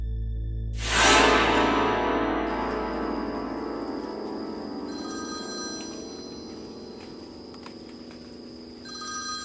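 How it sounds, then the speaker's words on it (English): Telephone bell ringing, a sharp loud burst that rings out and slowly decays, with a second ring starting faintly near the end, heard alone in a quiet room. "when the phone started to ring"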